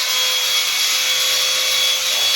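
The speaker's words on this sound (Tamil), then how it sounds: "இப்போ கட்டிங் மிஷினை வச்சு கட் பண்ண போகிற பாருங்கள்" A cutting machine slices along marked lines to open holes for bathroom water pipes, giving a steady, loud, high-pitched grinding whine that holds without a break from start to finish.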